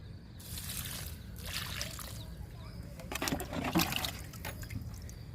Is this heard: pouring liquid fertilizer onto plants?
yes